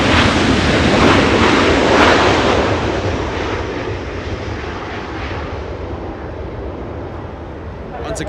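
A Southwest airliner departs Los Angeles International Airport for Las Vegas, its loud jet roar peaking early then slowly fading as it climbs away, with a faint voice underneath.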